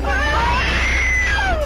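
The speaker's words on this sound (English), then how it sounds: "The scene that follows is made much more terrifying by the screams of the woman inside the car with the dash cam." Woman inside a car screaming during a crash, a sustained high-pitched wavering shriek, loud and close, over constant road and engine noise.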